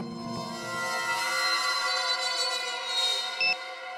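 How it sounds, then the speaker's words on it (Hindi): Alarm clock ringing in a bedroom, a steady bright electronic tone with layered harmonics held for several seconds, moderately loud and alone, with a short beep near the end. "कहीं धीमी आवाज में तो नहीं बजा अलार्म?"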